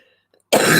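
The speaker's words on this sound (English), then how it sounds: "It still makes me cough." A single sharp, loud cough bursts out after a near-silent moment, close and harsh.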